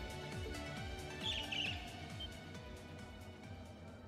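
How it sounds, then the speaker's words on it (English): Birds chirping in the video game Trails of Cold Steel 2: a brief cluster of high tweets rises over the steady background music, then fades. "Bird noises."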